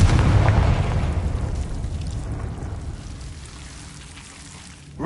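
A Confringo blasting spell goes off in a Harry Potter video game, a loud booming explosion with a rumbling, crackling tail that slowly fades over several seconds.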